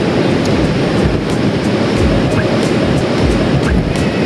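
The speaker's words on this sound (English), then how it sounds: "It's windy." Strong wind buffeting the microphone in a constant roar, with surf-like rushing noise underneath and no voices.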